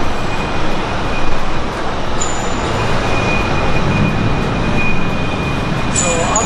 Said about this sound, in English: So we're gonna take this train right here over to the Victory Monument.